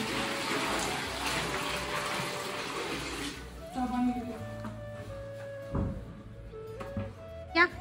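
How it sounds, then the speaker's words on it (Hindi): Water pouring from a tap into a bucket indoors, a steady rushing fill at first that gives way to quieter splashing and trickling, with brief voices talking and household knocks toward the end. "ये बाल्टी का एक बाल्टी लगभग एक बाल्टी आ जाता है पानी।"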